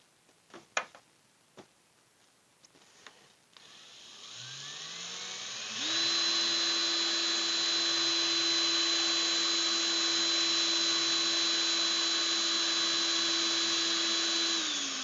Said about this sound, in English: Let's put the drill on fast.